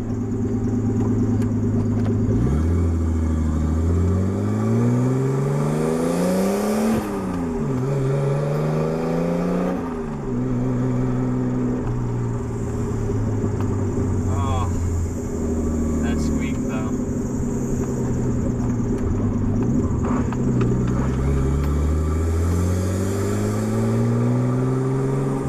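A budget-build car with an open downpipe exhaust and its top removed accelerates on a highway. Close, loud engine tones rise repeatedly and drop at each gear change over steady road and wind rumble.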